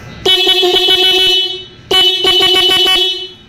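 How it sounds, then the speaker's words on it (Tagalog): A vehicle horn, just rewired and repaired, blares loud and close in two sustained honks of over a second each, with a short gap between them. "nagana na yung busina."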